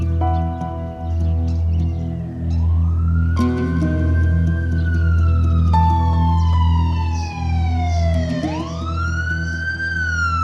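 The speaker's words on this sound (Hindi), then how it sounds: "एम्बुलेंस क्यों आई?" A loud ambulance siren wails continuously in a Turkish drama, its pitch sweeping up and down over a low engine hum, with no voices.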